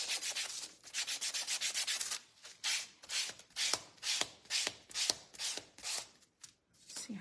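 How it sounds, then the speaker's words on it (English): Sandpaper rubbed by hand over a small wooden craft piece, making a steady train of close, rhythmic back-and-forth scratchy strokes, fast at first and then slower with short pauses. "Let's sand."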